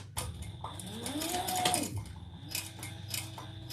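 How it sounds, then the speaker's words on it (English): A sewing machine top stitching around a small crossbody bag, running in short mechanical bursts with light clicking and a brief whirring rise in the middle, close and fairly quiet. "let's top stitch this all the way around, starting at the same place we sewed it together"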